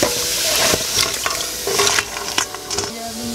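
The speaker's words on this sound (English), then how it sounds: "Sizzle, sizzle." Crab curry sizzles loudly in a pan, a close, continuous fry broken by the scrape and clatter of stirring.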